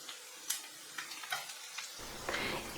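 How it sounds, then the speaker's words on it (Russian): Soft frying of finely diced onion in a pan, a quiet sizzle with light stirring clicks and scrapes, close up and faint. "Высыпаю сюда цибульку, нарезанную мелким кубиком. И обжариваю до мягкости."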